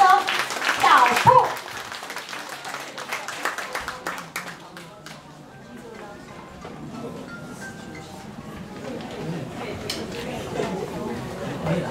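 Scattered clapping from an audience welcomes a dance group at a church Christmas celebration, breaking out briefly amid a speaker's voice at the start and fading into murmuring chatter and a few taps.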